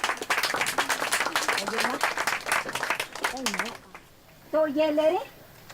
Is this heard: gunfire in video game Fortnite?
no